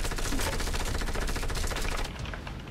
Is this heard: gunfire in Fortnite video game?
yes